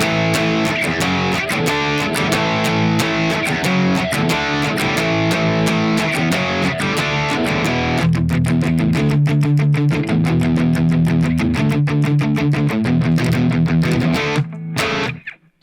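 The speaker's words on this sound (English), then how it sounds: "The chorus will sound like this." Distorted electric guitar chugs through the chorus in loud, driving power chords starting on A, then switches to tighter palm-muted hits before cutting off abruptly near the end.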